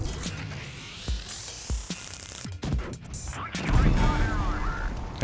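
A Cromwell tank's low-velocity gun fires in a tank video game, several sharp booming shots and impacts spaced across the stretch, with someone talking over them.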